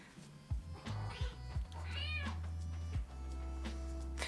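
A kitten gives several short, high little meows and squeaky chirps, close by, with brief pauses between them and a low steady hum underneath.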